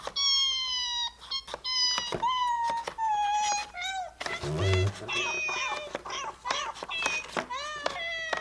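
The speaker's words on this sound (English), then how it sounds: "There's cat noises." Synthesized cat meows from a Nintendo Labo cardboard piano on the Switch play as a run of pitched, wavering mews and wails, each note distinct and repeated in a melodic sequence, with a voice briefly mixed in partway through.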